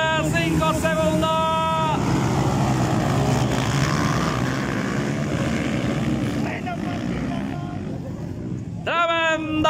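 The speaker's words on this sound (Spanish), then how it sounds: "Rugen los motores." Motocross motorcycle engines rev and roar together at a national mechanical-class race start in Quillabamba, Peru, with rising engine whines at the start and again near the end, close and loud over a broad roar, while a commentator talks.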